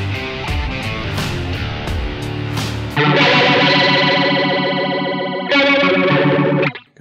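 Clean-tone electric guitar through a PH2 effects pedal, playing sustained chords with a shimmering chorus-like modulation, loud and close, in three phrases that break off at the end.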